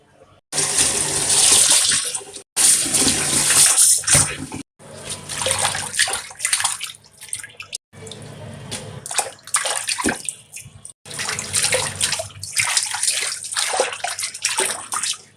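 Chopped bay leaves are washed in water, with bursts of splashing and sloshing that come in several loud stretches separated by short pauses, close up and with no talking.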